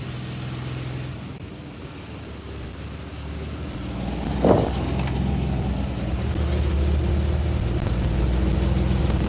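A 1986 Chevrolet C10 with a TBI fuel-injected engine idles up close with a continuous rough rumble that wavers unevenly, a brief clatter partway through, suggesting a stumbling, unsteady idle.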